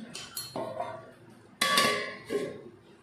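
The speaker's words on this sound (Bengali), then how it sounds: "একটু ঢাকা দিয়ে রাখি" A metal lid clatters onto a cooking pot of prawn malaikari, giving a few sharp clinks and scrapes, with one louder ringing clank in the middle, close and alone.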